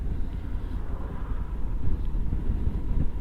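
Strong wind blows hard across an open field, a steady low roaring buffet on the microphone that continues without a break.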